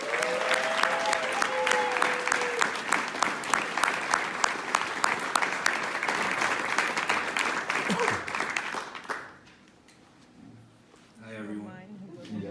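Audience applause welcoming graduation speaker Jose at an IPR Winter 2018 graduation ceremony, sustained dense clapping from a crowd for about nine seconds before fading, followed by a voice beginning to speak.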